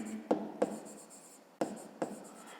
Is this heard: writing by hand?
yes